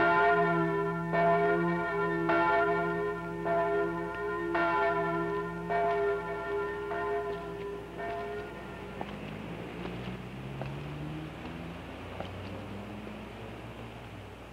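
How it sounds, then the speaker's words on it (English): Bells of a Hungarian Greek Catholic church ringing at noon, a steady series of clear, resonant strokes at a measured pace that gradually fade into a lingering hum and distant background noise. "it would be an awful clamor when the church bells would go off at noon"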